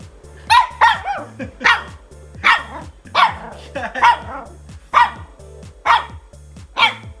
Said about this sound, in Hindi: देखो गुस्सा देखो इसका जरा, अपने बाल पे भौंक रहा है।